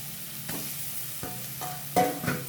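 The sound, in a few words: carrots frying in ghee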